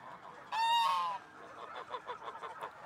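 Goose at the Luján zoo in Argentina gives one loud, close, nasal honk, followed by fainter chatter and ambient noise.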